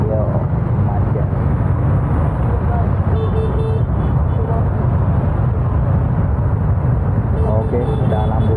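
Traffic jam at a red light in Meulaboh, Aceh, with a dense, steady rumble of idling engines and road noise close by. A brief horn sounds, and people talk over it.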